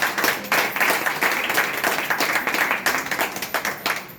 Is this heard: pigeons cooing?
no